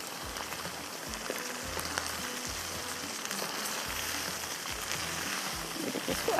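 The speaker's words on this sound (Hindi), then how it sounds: "आखिर में फिर हम तड़का लगाएंगे सिर्फ अदरक का, वो भी मक्खन के साथ" Ginger tempering in butter sizzles in a pan for a makai roti tadka, a steady, soft, close frying hiss with faint crackles and low thumps, and no voices.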